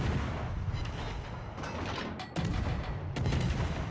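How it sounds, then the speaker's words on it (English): Naval guns firing at an enemy ship's broadside in the World of Warships game, a dense rumbling barrage with several sharp booming salvos bursting out near the end. "While I'm shooting at him, my Smolensk and Venezia, and more than likely my team's Hindenburg are also shooting at his broadside."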